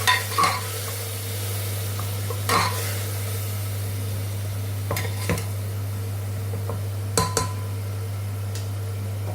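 Masala spices with salt, red chilli, turmeric and coriander powder frying in a pan, a soft steady sizzle under a low hum, punctuated by a few clinks and scrapes of stirring.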